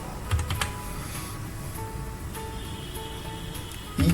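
Fingers type on a computer keyboard at steady pace while HTML code is written, soft clicks running throughout with a slightly louder flurry of keystrokes near the end.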